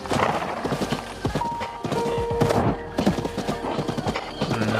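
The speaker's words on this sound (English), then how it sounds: "And this horse don't want to act right." A video game horse clops its hooves in a steady run and gives a drawn-out neigh partway through, layered over game music and effects.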